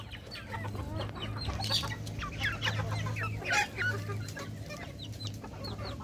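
Free-roaming chickens and ducks let loose outdoors keep up a busy chorus of clucks and squawks, nearby and continuous, with a low droning hum beneath and a louder peak midway.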